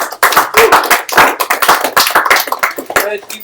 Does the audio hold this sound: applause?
yes